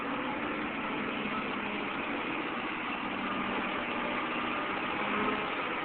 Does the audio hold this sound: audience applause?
no